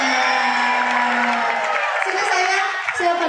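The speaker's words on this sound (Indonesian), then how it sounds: "Tepuk tangan dulu" An audience at a community event bursts into loud clapping and cheering for a child, with excited voices and whoops mixed in. The sound is dense and close throughout, fading slightly near the end.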